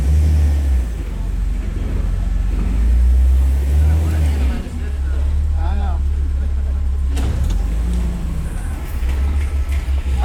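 An off-road rock buggy on water-filled tires crawling up rocks: a loud, close, continuous low engine rumble that rises and eases, with a person talking over it.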